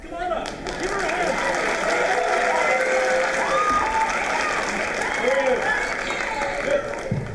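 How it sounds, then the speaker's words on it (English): A crowd of students at a high school writers week event applauds, with warm sustained clapping and cheering that fades toward the end, while a presenter's voice talks over it. "Give her a hand."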